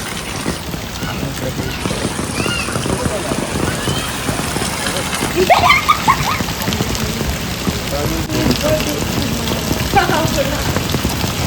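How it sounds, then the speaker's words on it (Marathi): Steady rain patters across a surface throughout, with voices talking over it. "आणि इकडे श्लोक पूर्णपणे मजा करताना पावसामध्ये."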